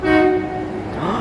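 A loud Seattle monorail train horn blares with steady harmonic tones, then fades slightly as rail rumble and clatter continue underneath.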